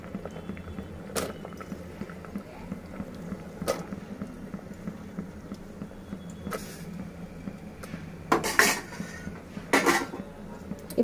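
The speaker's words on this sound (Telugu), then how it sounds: "ఇప్పుడు గోరుచిక్కుడుకాయ వేస్తాం." Cluster beans going into a pot of cooked toor dal, with sparse, close clinks and knocks of utensil against metal, a couple of busier rattling bursts near the end, over a low steady kitchen hum and no voices.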